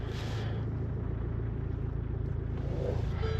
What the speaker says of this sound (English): All right, so let's turn on the car.